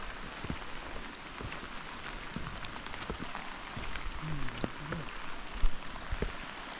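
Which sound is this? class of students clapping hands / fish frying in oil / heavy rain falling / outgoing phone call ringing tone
heavy rain falling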